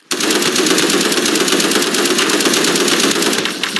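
A minigun machine gun in a video game fires one loud, continuous burst of rapid shots that runs almost the whole time before easing off at the end.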